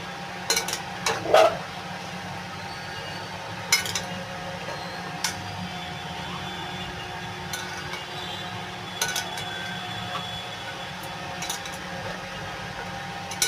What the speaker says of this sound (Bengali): চালটা দিয়ে দিয়েছি এবার আমি ভালো করে এটা মিক্স করব